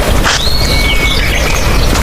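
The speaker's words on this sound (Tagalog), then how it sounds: "Daming ibon dito." Birds call near a creek in a wooded spot in Spain, a thin whistled call sliding across a loud, rushing background of water and wind.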